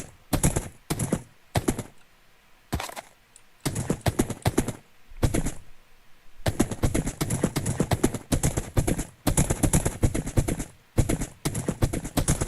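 Horse hooves clip-clopping in the Minecraft video game, a run of quick, crisp hoof clicks in clusters with short gaps, fairly loud and close with no talk over them.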